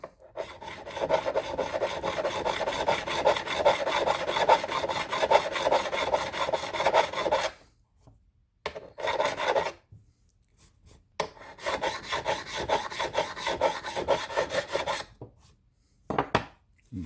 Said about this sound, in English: So I want to take the 300 now, 300 grit on the jumbo side.